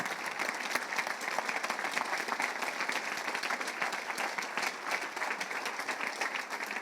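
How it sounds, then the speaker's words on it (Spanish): Congregation applauding in church after a sermon on prayer, a steady, dense wash of many hands clapping at moderate level throughout, with no talk over it. "Dale un aplauso fuerte al Señor."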